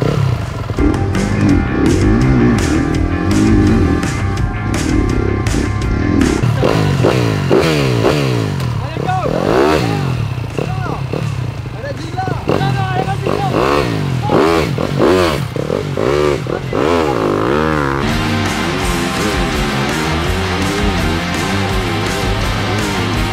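Motocross motorcycles race laps on a sand track, with engines rising and falling in repeated revving sweeps. The sound is loud and close throughout, and voices are faintly mixed in.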